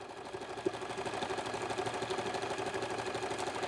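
Sewing machine running steadily as it stitches along the edge of a cloth napkin, a continuous close motor whir with a rapid regular needle rhythm and one brief click early on.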